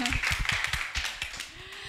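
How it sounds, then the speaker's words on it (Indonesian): A small audience claps in a quick, uneven burst of close hand claps that thins out toward the end. "tepuk tangan semua dong"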